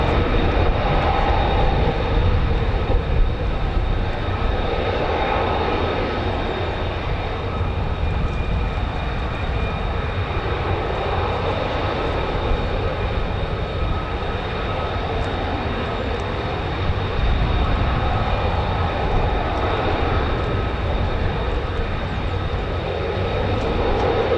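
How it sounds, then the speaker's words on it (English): An F-35 stealth fighter jet engine roars in a steady, loud, continuous rumble with a constant whine running throughout, at an air base. "The F-35, a 5th generation stealth fighter."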